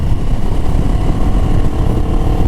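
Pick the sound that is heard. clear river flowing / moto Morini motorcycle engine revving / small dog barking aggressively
moto Morini motorcycle engine revving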